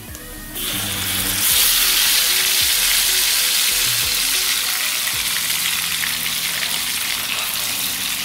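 Meat dropped into a hot pan for a spiced meugang-style dish, bursting into a loud, steady sizzle that swells after a brief thump at the start and keeps frying evenly throughout, with no talk.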